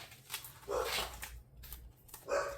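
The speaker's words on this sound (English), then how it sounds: "But the dogs bark every time someone goes by." Dogs bark at a passerby, a few short barks at a middle distance over a steady outdoor background, with no clear talking.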